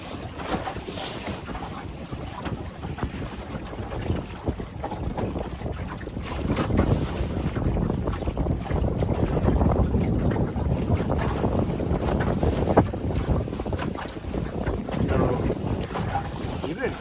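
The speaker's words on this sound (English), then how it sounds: "The wind's coming straight right out of there." Steady wind rushes across the microphone aboard a small Scamp sailboat under sail, with a continuous broadband roar and faint water wash along the hull that swells slightly midway and holds to the end.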